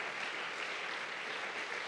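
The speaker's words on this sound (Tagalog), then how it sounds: "Palakpakan natin ang ating Panginoon." Congregation applauding in a church service, a brief, even wash of clapping that sounds faint and distant throughout.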